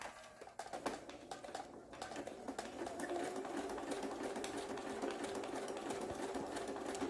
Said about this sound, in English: So I'm going to stitch this down at the bottom here